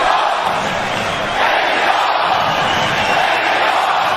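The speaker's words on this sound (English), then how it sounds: "There is no question about this crowd being into this fight." Loud arena crowd roaring and cheering at the Canelo vs Plant boxing fight, a continuous dense wall of noise with no clear pauses.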